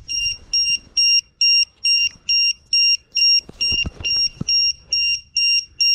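Loud, piercing low-battery warning beeper on an E-Flite Turbo Timber 1.5m RC plane, sounding in a steady series of about a dozen regular bursts, with faint handling knocks in between.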